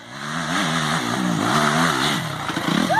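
A trail motorcycle out on a dirt track revs hard, its engine note wavering up and down in a few quick bursts before falling away, loud and close, with no talk over it.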